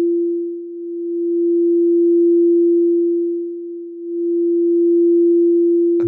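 A 343 Hz crystal singing bowl gives one steady, pure sustained tone with gentle swells in loudness, heard alone, ending in a brief click.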